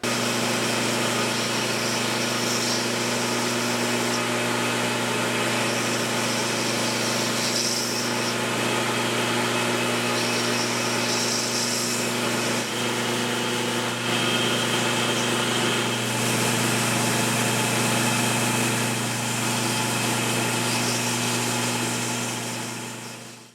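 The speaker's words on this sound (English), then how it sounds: "let's see if we can't make them a little bit more interesting over at the belt sander" A belt sander hums loudly and steadily, with a continuous grinding whir as layered paper is pressed against the belt, no speech.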